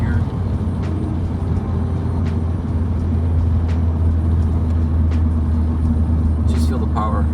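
A 180HP Volkswagen Scirocco accelerates hard in third gear, its engine producing a steady, loud low drone and rumble from inside the car, with a few sharp clicks and brief rattles over the top.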